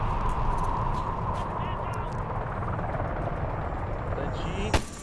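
A helicopter's rotor drone fills a Medal of Honor Warfighter multiplayer match, steady throughout, with a sharp bang near the end and players talking over it.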